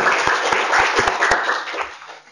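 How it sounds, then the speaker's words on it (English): Brief round of applause from a panel-session audience at a conference, with several distinct close claps in a dense patter that tapers off within about two seconds. "mind just giving a small round of applause to her as well?"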